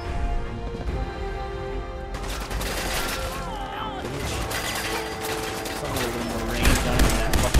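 Pipe pistol gunfire in Fallout 4, a dense run of close, rapid shots and cracks over busy game noise and music, with a louder burst near the end.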